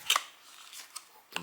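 Plastic packaging is peeled away from an Apple USB-C cable, making a brief crinkly rip, then faint rustling and another short crackle, close and quiet with no talking.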